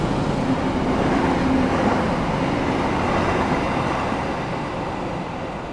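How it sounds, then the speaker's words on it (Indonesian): A service train rumbles past at night in a steady, loud roar heard from aboard another train, the sound slowly easing as it goes by. "Yang barusan lewat itu adalah kereta dinas, teman-teman."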